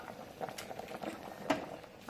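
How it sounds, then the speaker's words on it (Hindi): Besan kadhi, a gram flour curry, boiling in a pan on a gas stove: soft, quiet bubbling and popping with irregular blips of thick liquid, heard close and alone. "देखिए, बेसन का झोर पूरी तरह से उबल चुका है।"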